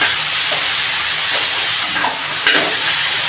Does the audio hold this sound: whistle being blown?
no